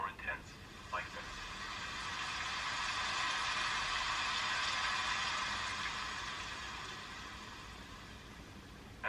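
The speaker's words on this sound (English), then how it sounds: "you'll hear the rain become more intense like this" Intensifying rain from a Muse meditation headband soundscape, a broad hiss that swells over several seconds, peaks in the middle and then slowly eases off. It plays steadily and alone.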